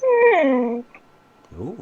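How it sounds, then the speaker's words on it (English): A pet dog indoors gives one drawn-out, low, whining growl lasting under a second, close by, followed by a brief human voice. "That was my dog."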